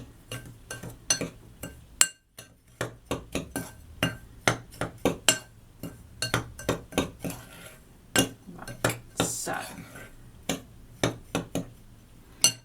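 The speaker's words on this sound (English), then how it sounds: "So I'm just going to give that a mix." Citric acid and bicarbonate of soda being stirred in a bowl with a metal utensil, producing rapid, irregular clinks and scrapes against the bowl, close and crisp, with no talking.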